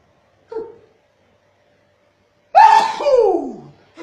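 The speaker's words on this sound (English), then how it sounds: "Bless you." After a small intake of breath, one loud, sharp sneeze bursts out close by, trailing off into a brief nasal exhale.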